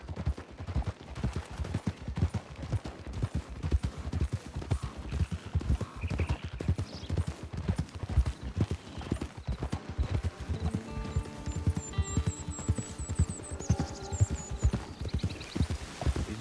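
Horse hooves in Red Dead Redemption 2 Online beat a steady, fast clip-clop rhythm throughout, loud and close, over a busy game soundscape with bursts of distant gunfire and some musical tones.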